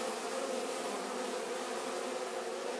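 A honeybee swarm hums around a nucleus hive box, a continuous, fairly soft buzzing from many bees at once, with no voices over it.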